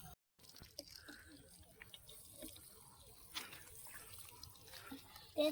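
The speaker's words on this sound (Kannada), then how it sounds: "ನಮ್ಮ ವಾಟರ್ ಪ್ಲಾಂಟಿಗೆ ನಾವು ನೀರು ಹಾಕ್ತಿದ್ದೇವೆ." Water trickles and splashes as it is poured onto a home-garden chilli plant, a faint, close, continuous pattering that swells slightly toward the end.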